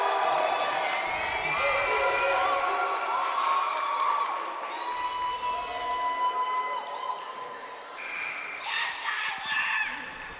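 A crowd at a men's college volleyball game between USTA and the Dalhousie Rams cheers and shouts in a gym, with a steady roar and high-pitched yells and whistles rising and falling. A voice speaks over it at times.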